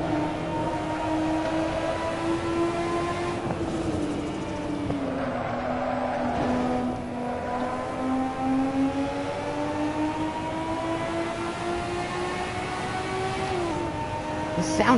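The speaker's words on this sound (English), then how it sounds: "I forgot how dang good this thing sounds. I think this is a flat 6 engine." A flat-six race car engine in Assetto Corsa on PS4 drones continuously with clear tonal harmonics, its pitch rising and falling through gear changes and throttle lifts, loud and close for the full stretch.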